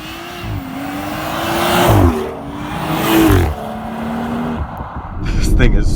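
A 2018 BMW X3 M40i with a 3-liter inline twin-turbo six launches hard under launch control, engine note climbing through gears with surging swells, as people exclaim over the roar.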